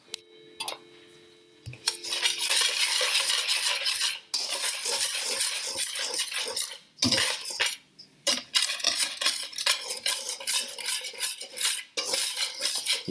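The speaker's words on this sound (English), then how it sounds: "take those dry ingredients, take your whisk, and mix." A whisk stirs dry cornbread ingredients in a bowl, clinking and scraping rapidly against the sides in steady bursts with brief pauses, loud and close with no talking.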